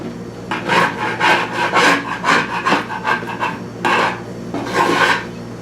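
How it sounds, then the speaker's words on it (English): A scraper drags heat-softened paint off a cabinet door in a series of rough, rasping strokes, about ten uneven scrapes with short pauses, close and clear, with no talk. "Give it a little scrape."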